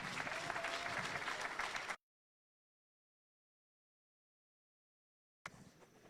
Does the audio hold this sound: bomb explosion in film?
no